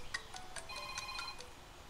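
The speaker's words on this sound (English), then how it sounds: "the phone's ringing" A cell phone rings with a ringtone of short, evenly spaced electronic tone bursts, moderately faint and heard alone with no talking.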